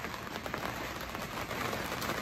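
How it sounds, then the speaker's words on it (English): Rain falls steadily in a wood yard, a soft, dense hiss of drops on surfaces, fairly faint and continuous with no talking. "Definitely raining."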